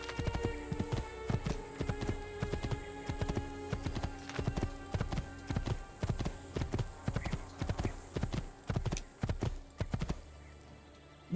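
Steady clip-clop of horse hooves in Assassin's Creed 2, a regular walking rhythm of sharp hoof strikes over a game soundtrack, continuing for most of the clip before stopping near the end.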